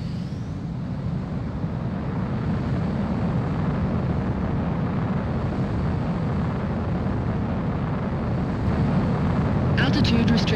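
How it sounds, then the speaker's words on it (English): Mobius One's fighter jet in Ace Combat 04 holds a steady, loud roar of engine thrust for the whole stretch, swelling slightly near the end as it powers away, with a brief crackling burst at the close. "Mobius One, you are cleared for takeoff."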